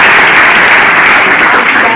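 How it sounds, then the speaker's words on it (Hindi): Audience at a school event honoring a prize winner breaking into loud, dense applause, a continuous roar of many clapping hands filling the whole moment close up. "एक बार जोरदार ताली।"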